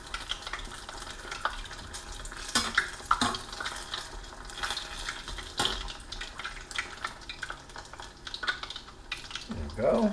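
Crab rangoon fry in a pan as they are turned and rotated, a constant hiss and sizzle broken by scraping knocks from the turning.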